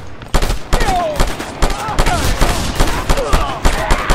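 Rapid bursts of gunfire in the video game Just Cause 2 crack out one after another in an irregular, loud volley, with faint whooshing effects between shots.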